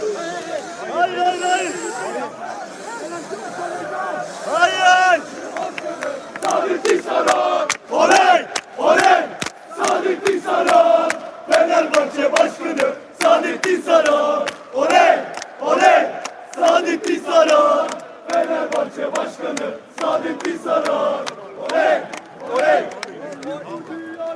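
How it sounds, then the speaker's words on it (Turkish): Football fans in the stands chanting back and forth with Saadettin Saran, a dense, loud wall of rhythmic voices and shouts that keeps going without a break. "Tribündekilerle karşılıklı tezahürat yapıyorlar."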